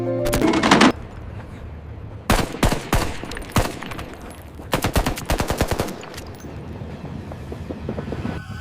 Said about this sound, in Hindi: अचानक उन पर बीएलए के 33 दहशतगर्द फायरिंग करना शुरू कर देते हैं